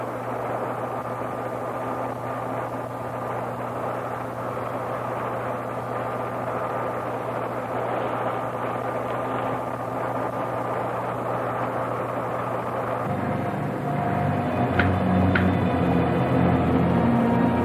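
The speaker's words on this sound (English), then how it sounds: "Refueling completed. Ready for blastoff." A rocket engine roars at blastoff in a 1968 sci-fi film, a dense steady rumble that swells and deepens toward the end, with no voices.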